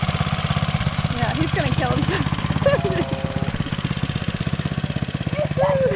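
Gas-powered Coleman CK100-S go-kart engine idling and puttering close by with a steady rapid pulse, running under near-continuous talk from several people.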